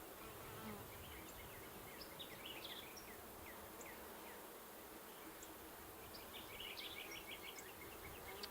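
A steady, dense drone of many honeybees hums from an open horizontal beehive as it is split, continuous and close, with occasional higher individual buzzes rising above the swarm.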